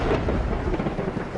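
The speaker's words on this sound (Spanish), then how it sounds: "Esa noche una terrible tormenta invernal sopló sobre los soldados, estremeciendo el cielo con truenos y relámpagos." Thunder rolling through a winter thunderstorm with rain, a deep continuous rumble that is loud and close throughout the short stretch, with no voices.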